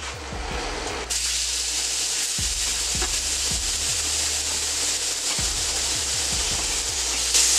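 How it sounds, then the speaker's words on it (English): Shrimp hitting a hot flat top griddle for a seafood boil, a loud steady sizzle that jumps up sharply after a second and holds, with scattered knocks and scrapes of handling underneath. "what I'm going to do now is I'm going to put my shrimp on here"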